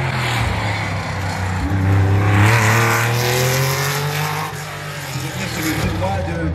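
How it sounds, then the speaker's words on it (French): A Porsche rally car at the Rallye du Chablais 2023 drives past with a loud engine note that climbs and falls as it goes by, tyres hissing on the road, and a commentator talks over it. "On enchaîne avec Thomas Mussolini et Patricia Mussolini qui ont fait tout leur rallye en Porsche"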